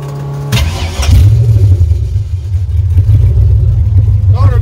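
An LS 4.8 V8 swapped into a 1954 Chevy rat rod cranks over with a sharp starter burst, then catches and settles into a loud, rough, throbbing idle that runs steadily close by, with a brief higher whine near the end.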